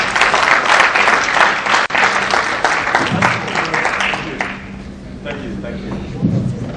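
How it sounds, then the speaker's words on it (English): Lecture audience applauding at an anniversary lecture, a dense, loud wash of clapping that thins and fades toward the end with some low murmuring beneath. "Please, another round of applause for him."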